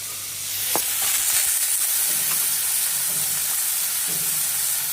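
Chickpeas hit a hot pan with ginger-garlic paste, setting off a steady broad sizzle that jumps at the drop and keeps hissing close and even, with no talking.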